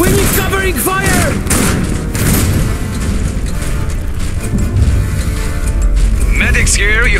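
Gunfire crackles and booms in the Iron Harvest strategy game during battle at Kolno, a steady mix of distant shots and explosions under voiced unit callouts and chatter.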